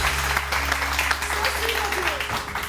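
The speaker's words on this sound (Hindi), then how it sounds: "बहुत सारी तालियां" The studio audience of Samaa TV's Pakistani morning show claps loudly and continuously for a few seconds over a low hum, while a host talks through it.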